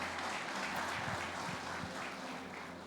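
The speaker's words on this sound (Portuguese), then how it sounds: "Aplauda Jesus para esse lindão aqui, ó." A church congregation applauds, a dense, steady wash of clapping from a crowd that holds at a fairly even level and eases slightly toward the end.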